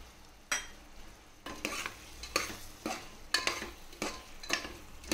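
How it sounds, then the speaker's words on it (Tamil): Mutton stirred with yogurt in a hot pan for Bhai-style biryani, a spoon scraping and turning the mixture in several distinct strokes over a soft sizzle, close and fairly quiet. "இதோட நம்ம ஒரு 50 கிராம் தயிர் மட்டும் சேர்த்து கிண்டிக்கோங்க"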